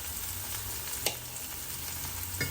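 Sea scallops sear in a hot pan, giving a steady close sizzle with a couple of brief sharper crackles, alone with no voices.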